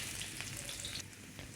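Soft, steady sizzle of chopped garlic frying in hot oil, with faint crackles and pops, close by and quiet.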